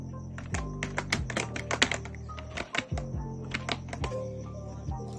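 Rapid clicking of keys on a computer keyboard while someone enters text into a Microsoft Excel spreadsheet, with irregular bursts of close, crisp keystrokes and short pauses between them, heard alone without talking.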